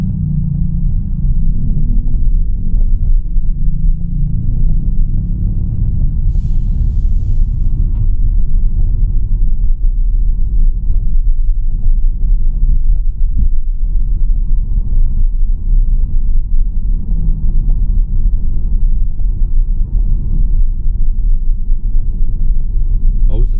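Tesla Model Y driving through morning traffic in Bangkok, heard from inside the cabin as a steady low road rumble and muted tyre hum that continues evenly throughout, with no one talking.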